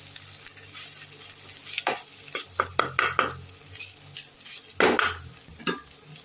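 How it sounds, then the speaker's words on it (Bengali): Masala with salt, turmeric, cumin and coriander powder being stirred and fried in a pan, with a steady close sizzle, scattered scraping strokes of a spoon and a louder stir near the end. "দিয়ে মশলার সঙ্গে আরেকবার কষে নিচ্ছি খুব ভালো করে।"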